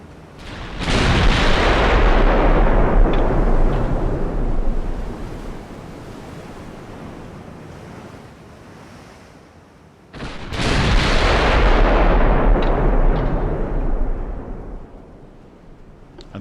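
Naval artillery guns fire in the warship combat game Ultimate Admiral: Dreadnoughts: two loud, heavy booms about nine seconds apart, each followed by a long, rumbling roar that slowly fades.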